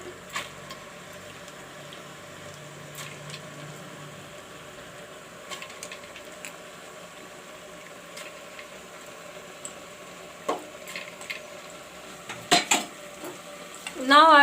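Chana dal goes into a pan of palak while cooking, with a spoon stirring and scraping; soft clinks and taps of utensil on metal come intermittently over a quiet background, growing busier and louder toward the end.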